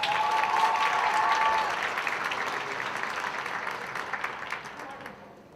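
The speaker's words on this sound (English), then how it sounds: "can we please give a round of applause?" A pageant audience breaks into applause that is dense at first and gradually thins and fades, with a few scattered claps at the end.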